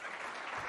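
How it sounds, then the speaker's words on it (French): An audience at a French talk on lifelong commitment gives a short burst of applause, a soft, dense clatter of many hands heard for under a second, fairly quiet. "Merci pour ces 2 applaudissements."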